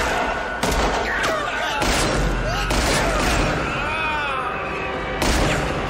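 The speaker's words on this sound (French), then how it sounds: "Jade va prendre le flingue et fumer Chucky" Gunfire from a Chucky horror film: several loud, sharp shots bursting out in quick succession over a dense, noisy movie soundtrack, with voices talking throughout.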